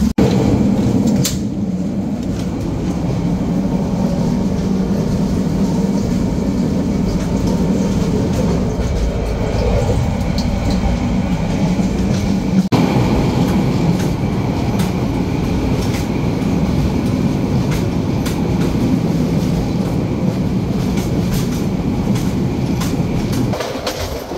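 The Chittagong Mail passenger train runs through the night, a loud, steady rumble and roar of wheels on rails with rhythmic clatter and occasional sharp knocks, heard from inside a cabin.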